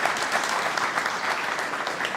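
Audience applauding at a guide dog class graduation ceremony, a steady, dense wash of clapping from a crowd that holds evenly throughout with no voices over it.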